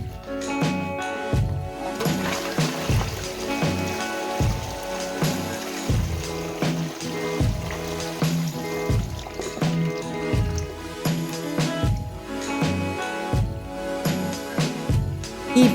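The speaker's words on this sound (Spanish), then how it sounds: "Solo hay que enjuagarlo bajo el agua corriente" A toilet brush is rinsed under a running tap, with water splashing and trickling unevenly in irregular gurgling bursts, close and moderately loud.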